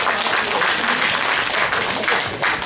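An audience at a national poetry recitation contest about Dokdo and patriotism claps loudly and continuously, a dense, close wash of applause that barely wavers through its short length.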